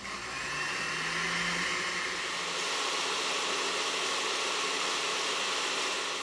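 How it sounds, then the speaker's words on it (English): Blender running on high, blending wheatgrass and water: a loud, steady whirring roar close by that holds evenly throughout, with a brief pitch shift as the blades settle, no one talking. "we'll blend this on high for about a minute so that it's all emulsified"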